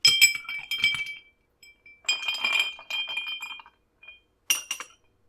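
Ice clinks and rattles against the sides of a glass as a Negroni cocktail is stirred, in a few bright, close bursts separated by short pauses.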